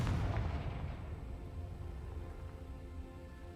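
Confringo fire spell blast in the video game Hogwarts Legacy: a loud booming burst at the start with a rumbling low tail that slowly fades, no talk.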